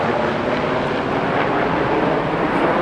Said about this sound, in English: I think they were Blackhawks. I don't know, they were loud though.